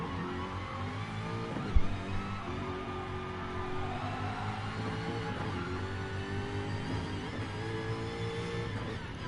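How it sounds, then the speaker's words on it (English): A Jaguar race car in GT Sport roars with a steady, droning engine note, rising and falling slightly as it drives on wet tyres, with a sharp thump early on; moderately loud and heard alone. "Listen to the power of that Jag."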